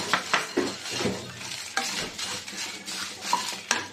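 Cumin seeds for a Telugu-style cabbage fry crackle and sizzle in hot oil, with a steady frying hiss broken by sharp stirring scrapes and a few clinks of a spoon against the pan.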